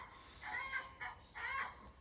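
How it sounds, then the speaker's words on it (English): A hen cackling after laying an egg outdoors, three faint, distant squawking calls in quick succession. "She laid an egg and she's cackling about it."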